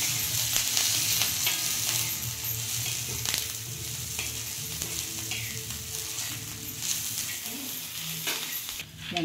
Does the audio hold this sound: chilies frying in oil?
yes